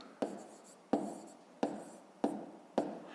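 A pencil writes on paper during a fifth-grade math exercise in five crisp, evenly spaced strokes or taps, close and quiet, with no talking.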